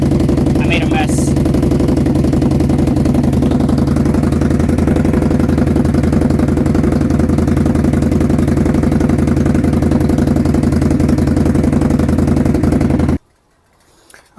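An Indian Scout motorcycle engine idles steadily and loudly up close, a constant throbbing rumble that cuts off abruptly near the end.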